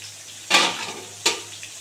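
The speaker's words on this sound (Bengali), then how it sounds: "এখন ভালো করে একটু পটলগুলো ভাজা হবে," Pieces of pointed gourd (potol) frying in oil in a covered pan, with two sharp bursts of sizzle about a second apart over a faint steady background hiss.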